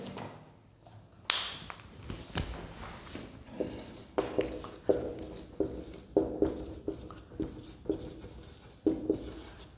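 Pen writing notes about acids, a series of soft scratchy strokes and taps in an irregular rhythm, close and fairly quiet, with no talking.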